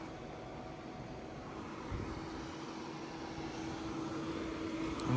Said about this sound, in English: Next up, we have one of the buyminers.ca 3000 RPM fans.